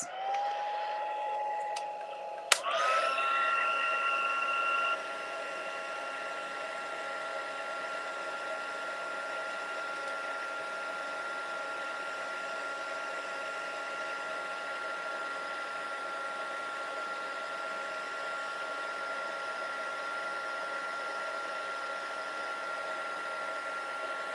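An electric embossing heat tool runs steadily as it melts embossing powder on a handmade card, giving a constant whining motor hum with a blowing rush; a click partway through shifts its pitch, then it continues evenly without speech.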